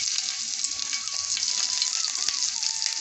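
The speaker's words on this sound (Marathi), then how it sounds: "तेजपत्ता आणि कढीपत्ता मी तेलात परतून घेतलाय।" Bay leaves and curry leaves fry in hot oil with a steady, bright sizzle and crackle, heard close and continuous without speech.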